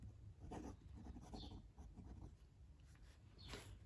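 A Pilot fountain pen with an 18 karat gold fine nib scratches across paper in short, soft strokes, quiet and close, with no one speaking.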